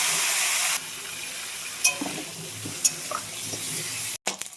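Turmeric- and salt-coated fish heads in hot oil, a loud hissing sizzle that drops off sharply, then quieter spatter with a few clinks and a knock at the end.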